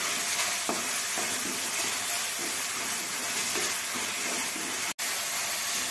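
Tomatoes sauté with curry leaves and salt in a pan, making a dense, even sizzle and hiss throughout, with soft stirring scrapes and a brief dropout near the end.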